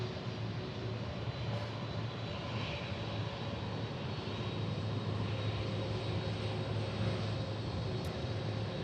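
Airplane, likely a FedEx jet, taking off at Memphis International Airport, a steady distant engine roar with a broad rushing hiss and a low hum that holds evenly throughout, with no voices.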